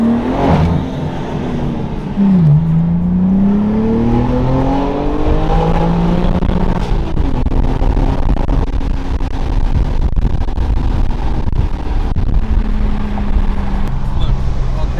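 A straight-piped BMW M4 exhaust revs up and down with sweeping pitch changes, loud and close, with pops and crackles scattered throughout.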